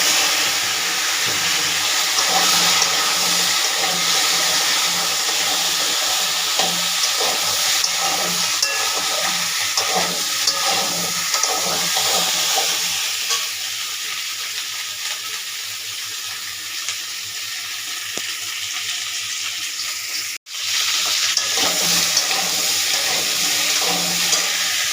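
Taro pieces fry in hot oil with cumin and bay leaf in a pan, a loud continuous sizzle with repeated scraping stirs close by, and a brief sharp knock near the end.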